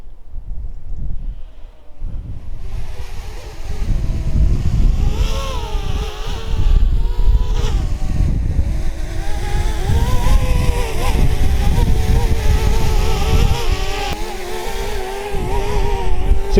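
A small DJI Mini drone flying in strong wind, its four propellers giving a continuous whirring buzz with wavering pitch, heavily mixed with loud, rumbling wind buffeting throughout.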